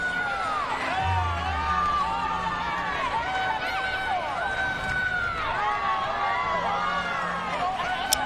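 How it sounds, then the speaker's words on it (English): Spectators in the stands at a semi-final ultimate frisbee game cheer and whoop, a broad crowd roar with rising and falling shouts and whistles, heard under steady commentary talk throughout. "Hear some big cheers from the crowd."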